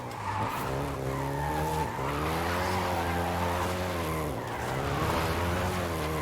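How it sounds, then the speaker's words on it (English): Volkswagen Golf GTI driven in the Forza Horizon 5 racing game, its engine droning steadily with rising and falling revs and tire squeal, loud and continuous throughout with no talk. "the Golf GTI you're driving right now"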